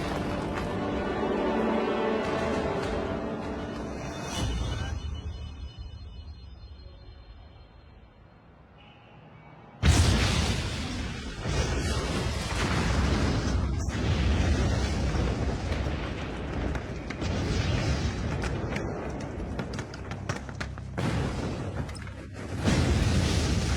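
Bomb blast in an action-drama film: after a quieter tonal passage, a sudden loud, broad boom erupts, followed by a sustained roaring rumble that stays heavy and swells again near the end.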